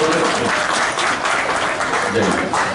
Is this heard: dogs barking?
no